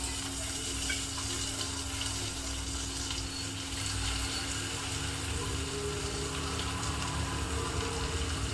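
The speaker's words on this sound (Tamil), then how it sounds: "தேவையான அளவு தண்ணியை ஊற்றி கொதிக்க விடுவோம்" Steady running water pours continuously with a constant hum beneath, filling a cooking pot without pause while making sweet corn gravy.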